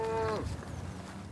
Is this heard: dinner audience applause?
no